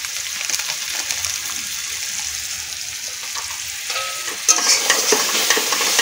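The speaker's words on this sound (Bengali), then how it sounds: "দিয়ে আমি সুন্দর করে মশলাটাকে আর একটু লাল লাল করে ভেজে নেব।" Masala spice paste frying and being stirred in a pan for a fish dish, a steady close sizzle with scraping stir strokes that grow louder toward the end.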